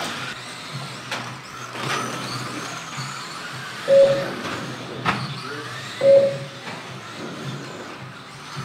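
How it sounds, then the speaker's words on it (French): Mini-Z radio-controlled model cars racing around a small indoor circuit, high-pitched electric motor whines rising and falling as cars pass, with a few sharp peaks over a steady background hum. "toutes au même modèle de voiture radiocommandée, la très nerveuse Mini Z"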